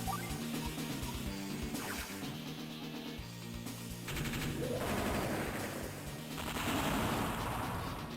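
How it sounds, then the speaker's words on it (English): Loud crashing blasts and rapid bursts of gunfire-like impacts erupt in waves over a rumbling game soundtrack, intense and continuous, in the video game Advance Wars: Dual Strike. "I love that explosion sound."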